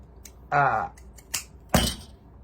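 Scissors cutting for a primitive peppermint candy bowl filler craft: a few sharp, close snips separated by short gaps, with a brief voiced sound mixed in.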